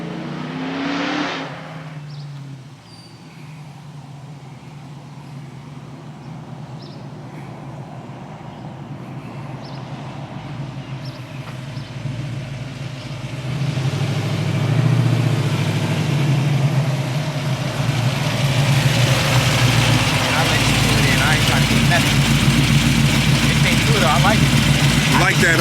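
A 1987 Lincoln Landau pulls away and accelerates along a street between speed bumps, its engine rising from a low idle to a louder, building rumble over the second half, with voices talking throughout.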